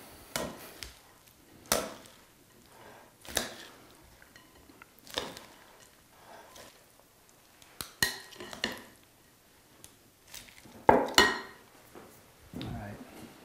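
Ingredients for miso red curry slaw being tossed in a large bowl, giving a string of separate clattering and scraping bursts at an irregular pace, fairly faint and close, with no one talking.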